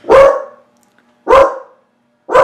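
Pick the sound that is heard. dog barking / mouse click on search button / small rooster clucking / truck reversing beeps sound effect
dog barking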